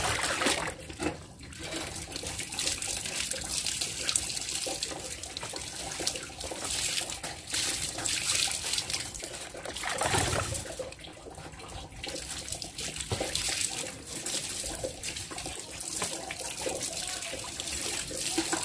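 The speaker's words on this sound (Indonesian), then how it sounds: "sekarang kita siram-siram dulu supaya kotoran yang nempel di badannya ini lumayan hilang" Water poured steadily over a civet to rinse dirt off its body during a bath, a continuous splashing and trickling stream with only brief dips, close and fairly loud.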